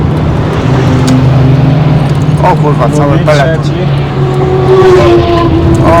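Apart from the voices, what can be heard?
fast car passing on the Nürburgring track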